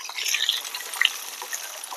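A large onion sizzles in hot oil in a tempering pan with black gram, mustard and cumin seeds, a steady crackling fry with a few sharper pops, close and alone.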